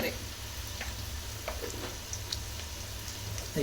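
Garlic chummari snack frying in a pan in a home kitchen, soft continuous sizzle with scattered light pops and crackles, quiet and close.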